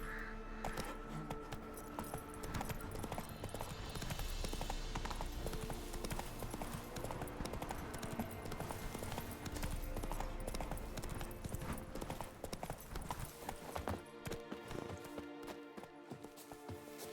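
Horse hooves clip-clop in a rapid gallop rhythm in The Witcher 3, layered with game music and ambience, with a brief voice cue.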